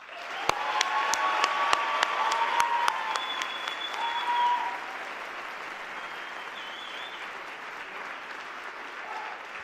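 A convocation audience applauds graduating master's and doctoral students with dense, sustained clapping and a few sharp individual claps up front, gradually thinning and softening toward the end.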